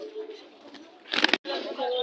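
Giribaz pigeons coo at a busy pigeon market, soft repeated murmuring calls mixed with a burst of fluttering and chatter, heard fairly close.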